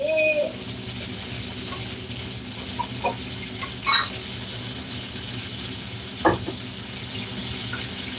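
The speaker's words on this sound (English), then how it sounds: "Now I gotta let that simmer." A pot of breakfast food simmers on the stove with a soft, steady sizzle and bubbling, punctuated by a few light clinks and stirring sounds nearby, fairly quiet overall.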